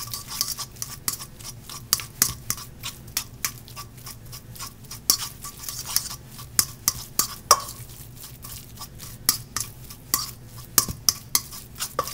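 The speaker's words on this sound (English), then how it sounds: "Blend it together." A spoon briskly stirs and blends mashed egg yolk filling for stuffed deviled eggs in a bowl, with rapid, steady scraping ticks against the dish, close and clear with no talk.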